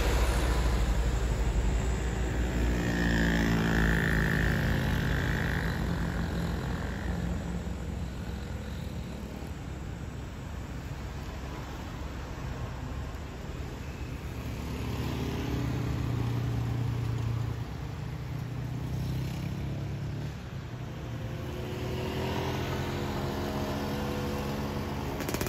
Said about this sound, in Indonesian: truk center tanpa muatan mendaki tanjakan Senapit Gunung